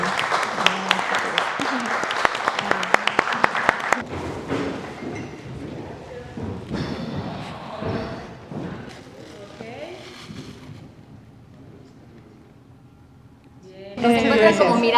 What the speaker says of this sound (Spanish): Y un aplauso.